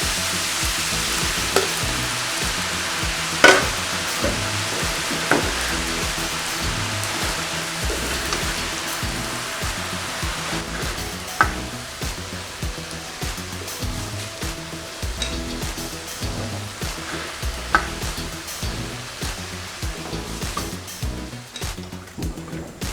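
Thin strips of samosa pastry fry in oil with a steady, close sizzle and crackle throughout, with a few sharper pops rising above the bubbling.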